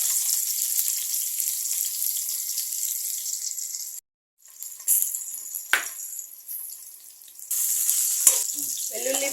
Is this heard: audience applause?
no